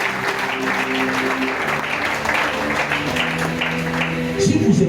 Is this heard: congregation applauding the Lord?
yes